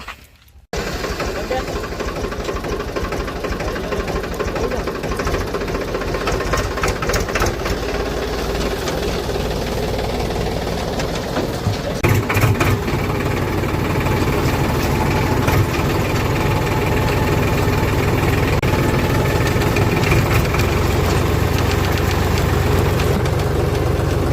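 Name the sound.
Powertrac tractor engine running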